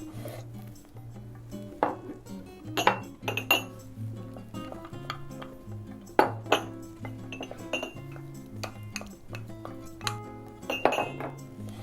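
Pickled olives go into cooled cold pasta and get tossed, making repeated clinks and scrapes of utensils against a bowl, spread through the clip over soft background music.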